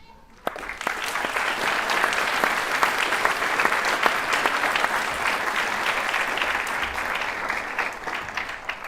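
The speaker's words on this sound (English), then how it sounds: "would you please stand so we can give you a round of applause?" Applause from the audience at a Craft Academy graduation ceremony at Morehead State University, a sustained wash of many hands clapping that starts suddenly and holds steady, loud and close, throughout.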